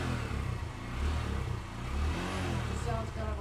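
A Honda Grom motorcycle on its stock exhaust revs in short, muffled mid-range bursts, quiet and close, with the engine rising and falling over a low rumble.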